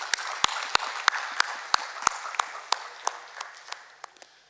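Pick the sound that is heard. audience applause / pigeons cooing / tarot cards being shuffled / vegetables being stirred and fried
audience applause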